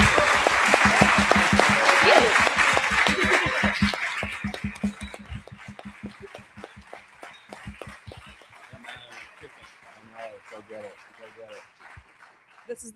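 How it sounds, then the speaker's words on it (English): A room full of people applauds a panel at a membership meeting. The loud clapping fades over several seconds into scattered claps, with chuckles and voices underneath. "let's give them a round of"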